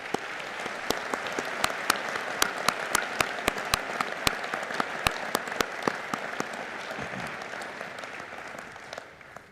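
An audience at a medical school degrees ceremony gives graduates a round of applause, a steady wash of many hands in a large space with sharp, distinct individual claps standing out near the front, fading out at the end.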